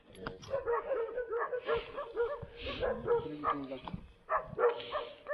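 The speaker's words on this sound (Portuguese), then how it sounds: "Provavelmente é os cachorros." Dogs barking at night, a run of repeated barks and yips at middle distance, with people talking quietly underneath.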